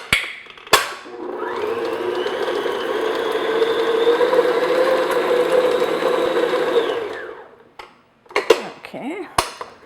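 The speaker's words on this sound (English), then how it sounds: "just beat this on low speed just until the butter is nice and creamy" An electric mixer beats butter on low speed with a steady whirring hum for several seconds, framed by a few knocks and clatters before and after.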